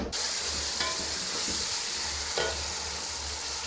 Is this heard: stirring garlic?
yes